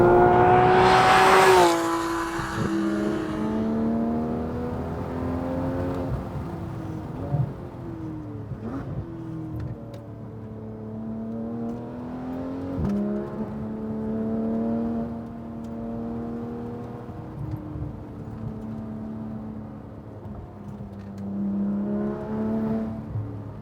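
A Porsche 911 GT3 RS with a naturally aspirated flat-six revs sharply at the start, then holds a steady rising and falling engine drone through several gear-like sweeps, with a clear mechanical whine running underneath.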